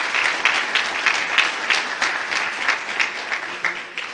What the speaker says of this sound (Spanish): Un fuerte aplauso, por favor, para Carlos Chacón.